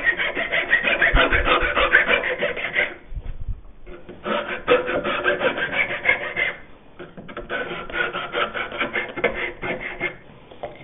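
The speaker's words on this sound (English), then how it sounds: "I find if you start by rounding off the top of the tenon first" A wooden tenon is rounded off at the top by hand with a rasp, giving repeated close, scratchy rubbing strokes in three bursts with brief pauses between them.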